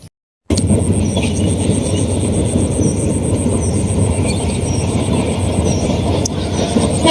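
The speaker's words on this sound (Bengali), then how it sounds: "সকালবেলা ট্রেন যাইতেছে গা এটা মোহনগঞ্জ হইতে কমলাপুর যাইব" A passenger train running from Mohanganj to Kamalapur rolls past in the morning: a loud, steady, close rumble of wheels and carriages that begins abruptly after a brief silence and continues unbroken, with a faint high whine above it.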